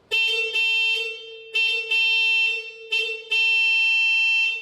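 Softer town horn of a 1972 Citroen DS21 gives a series of short and longer beeps with a thin, bright buzzy tone, pressed in irregular bursts, close and clear.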